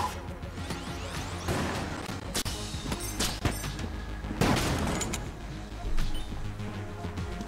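Sticky bombs go off in a video game, a rapid run of blasts, crashes and whooshes in loud bursts, with a voice talking over parts of it.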